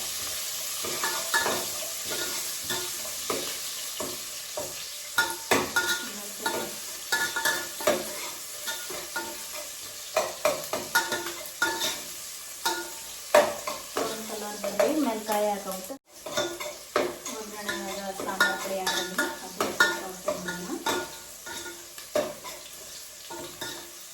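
Curry leaves and onion fry in a pan while being stirred, with a continuous sizzle broken by frequent scraping and clinking strokes of a spoon against the pan.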